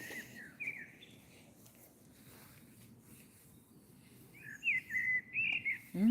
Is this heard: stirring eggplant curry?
no